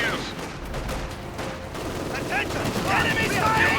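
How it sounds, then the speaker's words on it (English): Gunfire from the strategy game Company of Heroes 2 crackles as scattered shots and bursts in a busy battle mix under continuous noise. A voice talks throughout. "Sniper fire continue to take its toll on the Grenadiers."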